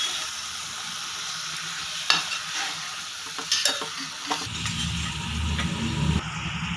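Amaranth leaves and tomato curry are stirred in a pan over a steady sizzle, with a spoon scraping the pan in scattered strokes before a louder, lower frying rumble takes over.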